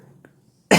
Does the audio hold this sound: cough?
yes